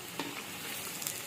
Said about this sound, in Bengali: আলুগুলো দেখো একদম লাল করে ভেজে নিয়েছি।